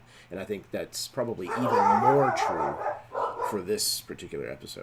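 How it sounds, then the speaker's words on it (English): Dogs bark and yip in short bursts in the background of a tabletop game discussion, partly under steady conversational speech. "Sorry for the dogs."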